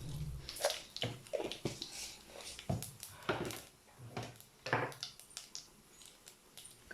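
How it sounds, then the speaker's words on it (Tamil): Mustard seeds spluttering and popping in hot oil in a clay pot while cooking beans poriyal, a close, irregular crackle of sharp pops and sizzles with no talking. "கடுகு பொரிஞ்சிருச்சு"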